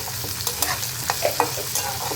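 Chopped onion and garlic sizzling in a pan, with several scraping stirs of a spatula close up and no voices.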